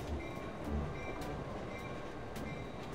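A train rumbles at a station in the Irony Curtain video game, a steady, continuous low drone with faint rhythmic clicks, heard alone without speech.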